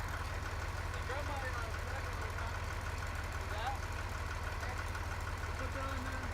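A vehicle engine idles steadily after being started, a low constant rumble that stays faint and even throughout, with no talk over it.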